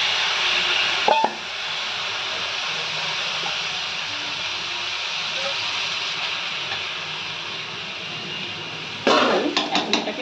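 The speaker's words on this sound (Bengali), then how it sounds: "ডালিয়াটা ভালো করে ধুয়ে রেখেছি, ডালিয়া দিয়ে দিচ্ছি" Washed broken wheat (dalia) tipped into a hot pan of sautéed mixed vegetables sizzles and hisses steadily, with a few sharp clinks of a utensil on the pan near the start and a clattering burst of stirring near the end.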